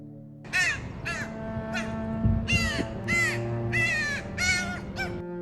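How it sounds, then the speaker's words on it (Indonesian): A crow caws repeatedly, harsh raspy calls in an irregular series of about eight, close and loud, with a low hum underneath. "Gagak dikenal dengan suara khasnya yang serak dan penuh karakter."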